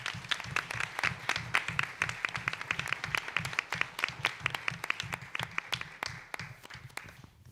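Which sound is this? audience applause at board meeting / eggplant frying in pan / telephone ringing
audience applause at board meeting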